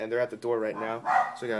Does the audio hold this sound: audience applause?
no